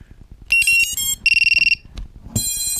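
Shrill electronic beeping tones from a buzzer on a drone build sound close and loud in patterned bursts, including a rapid pulsing run, over a steady low rhythmic thumping.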